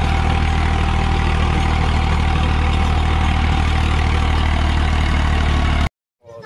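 An Eicher 380 tractor engine runs at a steady idle, a loud, continuous low rumble, close by and alone, until it cuts out abruptly near the end.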